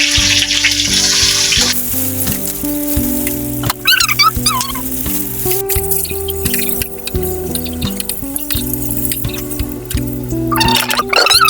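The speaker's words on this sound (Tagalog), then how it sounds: "mag-iprito lang ako" Food frying in a pan in a home kitchen in the provinces, a steady close sizzle with occasional stirring and clinks running throughout, and some background sounds.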